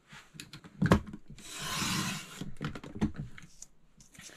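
Paper being cut for a Creative Memories winter woods scrapbook layout, with two 4.5-inch cuts: a steady rasping slice through the middle, framed by several short taps and rustles of handling, close and fairly quiet, with no talk.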